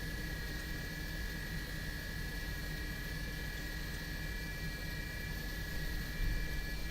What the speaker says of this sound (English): Just at the right time, engines are just firing.